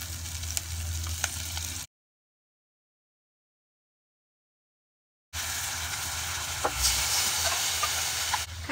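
Red curry paste fries in hot oil with coconut milk going in, a steady close sizzle and hiss with occasional stirring clicks, cut by a few seconds of silence before the sizzling resumes.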